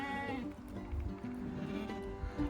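Fell sheep bleat during clipping time on a farm, several overlapping calls sounding close and loud with a steady murmur of the flock behind them.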